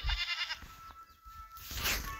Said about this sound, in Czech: Tak ještě nakrmíme kozy 2.